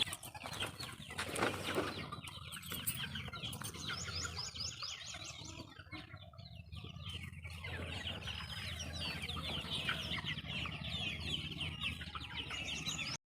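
Chickens and roosters cluck and call steadily at close range, a busy layered flock sound with occasional louder squawks and no talking.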